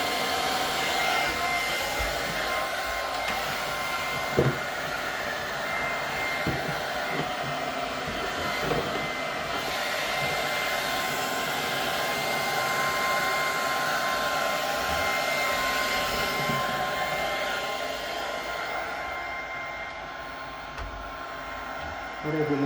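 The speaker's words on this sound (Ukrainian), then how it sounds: "переводимо фен в друге положення" A hair dryer on its second setting, about 1272 watts, blows with a steady, loud whooshing hum that runs throughout, with a few faint clicks and knocks in the background.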